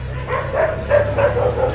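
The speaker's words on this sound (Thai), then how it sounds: "หมาไล่เห่าเลยเนี่ย" A dog chases and barks in a quick run of about five sharp barks at moderate distance, over a steady low rumble.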